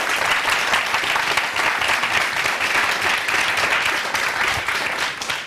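A studio audience applauds a guest musician on a radio-television show: dense, steady clapping from many hands, close and loud throughout with no talking.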